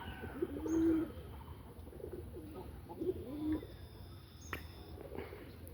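Domestic pigeons kept in a loft cooing nearby, with two distinct low throaty coos a few seconds apart over a quiet background.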